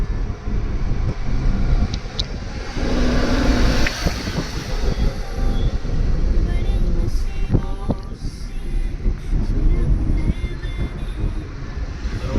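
A driving-school car heads down a steep ghat road in second gear with light braking. A steady, loud rumble of engine and road noise fills the cabin throughout.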